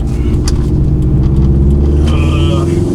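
Subaru STI engine rumbling steadily and loudly from the driver's seat, a raw continuous drone with slight revving throughout, heard over a speaking voice.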